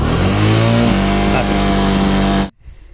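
A motorcycle engine runs during an engine flush with a diesel and oil mix, a loud, close, steady drone with slight revving that stops abruptly near the end, leaving faint background noise.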